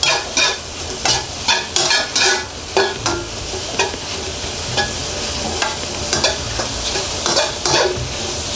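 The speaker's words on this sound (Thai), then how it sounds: "แล้วก็ผัดต่อให้ผักสลด" Vegetables for vegetarian mee sua noodles are stir-fried in a pan, a steady loud sizzle under rhythmic scraping strokes of the spatula.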